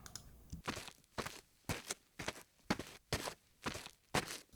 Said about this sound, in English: the difference in the footsteps here is that she's getting onto some dirt and gravel